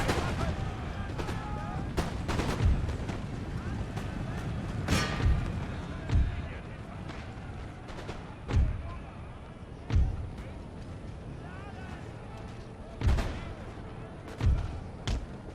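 Artillery guns firing in the video game Empire: Total War, a series of deep booming shots spaced a second or two apart over a rumbling battle background, with someone talking at times.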